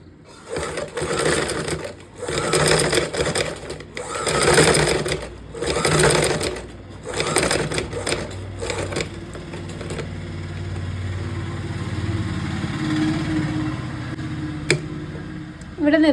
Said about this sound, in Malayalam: നമുക്ക് ആദ്യം കുറച്ച് മുകളിൽ നിന്ന് ഈ ഒരു സൈഡ് സ്റ്റിച്ച് ചെയ്യാം.